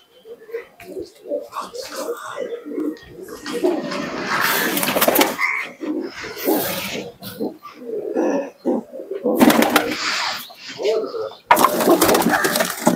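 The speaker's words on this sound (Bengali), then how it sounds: "মিন্টু ভাই দেখুন এই এক জোড়া টেডি কবুতর" A pair of teddy pigeons coo in soft, low, repeated calls, broken by louder bursts of rustling or flapping close by.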